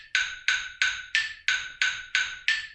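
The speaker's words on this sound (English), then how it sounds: "So each time you hear that click" A metronome ticks at about 180 beats per minute, eight crisp evenly spaced clicks in steady rhythm, close and clear with nothing else around them.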